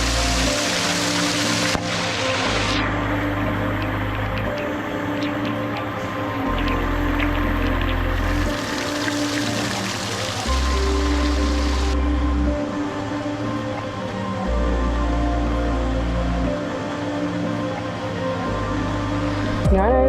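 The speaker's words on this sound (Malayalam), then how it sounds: "പക്ഷെ നല്ല മഴയാണ്." Heavy rain pours steadily onto rocks beside a waterfall at Meenuliyan Para in Kerala, a dense continuous wash of water with low rumbling throughout.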